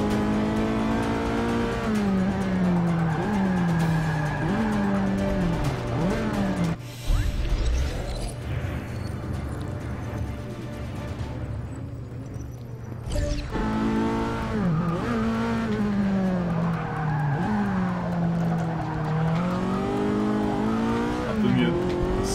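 A race car in Forza Motorsport 6 loses grip and skids, with its engine droning and shifting in pitch, tires squealing through the corners, and a person talking over it.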